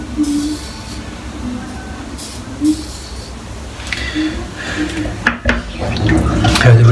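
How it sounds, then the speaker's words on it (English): Tap water runs into a bathroom sink to rinse out shaved head hair, a steady close rushing flow with a few splashes and clunks, swelling louder toward the end. "My sink's full of hair, so I'll need to rinse that out."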